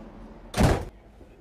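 A train door on a One Anglia service closes in a single short, solid thunk with a brief rush of sound. Quiet background surrounds it.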